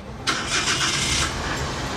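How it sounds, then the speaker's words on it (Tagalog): A minivan engine cranks briefly and catches, settling into a steady idle close by. "So, start natin yung makina natin."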